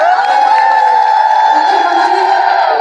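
Loud crowd at a public welcoming event with Chief Minister and Deputy Chief Minister on stage, sustained applause and ululation rising together in a dense, continuous wash of cheering voices.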